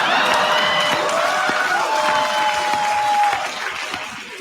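An audience at a comedy roast applauding, a steady wash of clapping and crowd noise with a whistled tone riding on top, fading a little toward the end.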